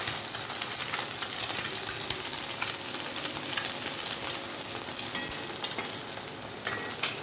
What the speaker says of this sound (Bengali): আমি ডিমটা ভেজে ওকে খেতে দিয়ে নিই